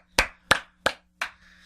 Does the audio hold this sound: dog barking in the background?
no